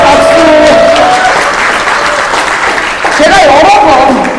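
An audience claps at an in-house company lecture, steady loud applause running throughout while a speaker's voice carries over it.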